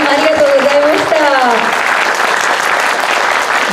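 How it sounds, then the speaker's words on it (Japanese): Warm applause from the audience at a Japanese film stage greeting for the movie about a love hotel affair, with a voice speaking over the first part, then sustained clapping alone. "どうぞ皆様盛大な拍手をお願いいたします"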